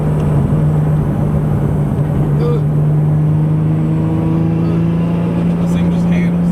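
A 900+ hp right-hand-drive Nissan R34 GTR with an RB26 engine drones steadily from inside the cabin, a sustained rising engine tone under road noise, loud and continuous throughout.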